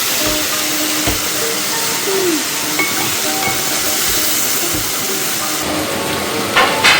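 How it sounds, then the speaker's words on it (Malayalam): Mustard seeds sizzling in hot oil while tempering a yam-flower thoran, a steady close hiss running through the whole stretch with a few faint pops and crackles and no talk. "ഇനി നമുക്കിതിനെ കടുക് താളിക്കണം."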